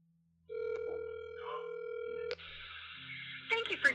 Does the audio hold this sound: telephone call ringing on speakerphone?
yes